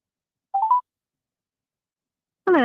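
A short burst of telephone keypad dialing tones sounds, a few quick beeps in succession, followed by silence and then the start of a recorded voice answering.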